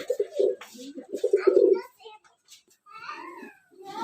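A pair of pigeons in a small home loft coo in low, throaty bursts nearby, followed by a quieter stretch of higher, chirpy calls.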